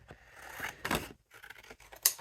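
Scissors cutting craft paper for a rainbow box, a few close, crisp snips with quiet rustling between them.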